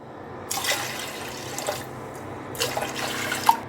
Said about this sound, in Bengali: প্রেশার কুকারে দিয়েছি এবং এখানে চার পাঁচ কাপ পানি দিয়ে দিলাম